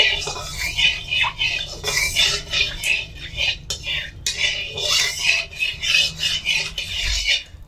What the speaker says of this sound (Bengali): কড়াইতে পরিমাণ মতো সর্ষের তেল দিয়ে দেব তেলটা একটু খুঁতি দিয়ে চারি সাইডে কড়ার চারি সাইডে মাখিয়ে নিচ্ছি